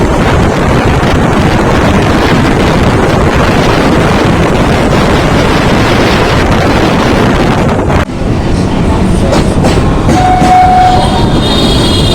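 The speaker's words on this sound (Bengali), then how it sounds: "এখন আমাদের ট্রেন এসে পৌঁছলো দমদম জংশন" A local train on the Sealdah to Kalyani Simanta line arrives at Dum Dum Junction. It roars loudly close up with rattling wagons and wind buffeting, then the sound eases into a thinner clatter with a brief high tone.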